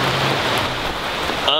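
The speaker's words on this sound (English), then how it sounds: "It's pretty rainy." Steady rain falls outdoors on a spring day among blossoms, a dense close hiss of drops on surfaces filling the moment, with a brief voice at the very end.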